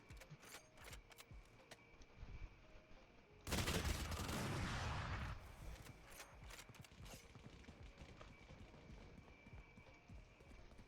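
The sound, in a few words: SMG Bucky gunfire in a video game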